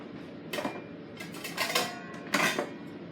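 Knife chopping ingredients on a board in a home kitchen while preparing adobo, a few quick bursts of clattering cuts with pauses between, close by and moderately loud, with no talking.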